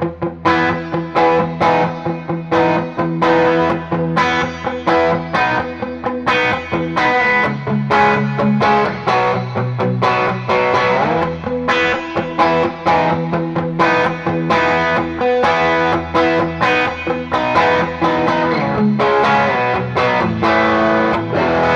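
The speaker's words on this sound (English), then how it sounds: "As you could hear, that reverb is there, and that's because we blended it in with this parallel" Electric guitar played through a Pettyjohn PettyDrive overdrive pedal with plate reverb blended in parallel, giving steady distorted chords and riffs with a wash of reverb, loud and continuous without talk.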